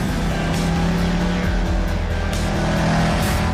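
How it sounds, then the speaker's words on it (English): A Dodge Challenger's engine roars steadily with revving and tire noise, loud and close, sounding like a powerful vehicle being driven hard. "This is a Dodge Challenger that I've just bought."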